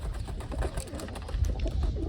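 Pigeons coo softly in a farm setting, with low, faint, throaty calls repeating over a murmuring background.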